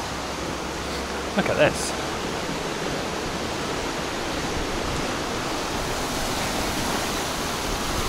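A river rushes past near a bridge in Chamonix, a steady broadband roar of flowing water filling the scene, with a brief voice and a short clatter early on.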